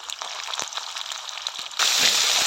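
Onion, ginger paste, chili and turmeric fry in a pan for a fish and drumstick curry, heard as a close hissing sizzle that swells suddenly louder partway through, with occasional stirring taps and no talk.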